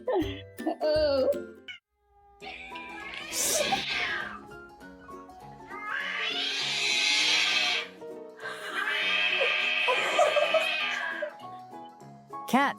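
A grumpy cat meows and yowls in a scolding way, giving several long complaining calls with short breaks between them, loud and close.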